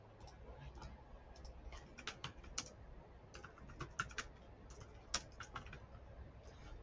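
Keys clatter on a computer keyboard in quick irregular bursts of close, soft clicks as someone types an email, with a steady low hum underneath and no speech.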